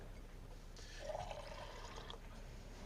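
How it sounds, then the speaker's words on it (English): A little water, about 100 ml, is poured into a cooking dish in a kitchen: a faint, short splash and trickle lasting about a second and a half over a quiet background hiss. "And then just a little bit of water."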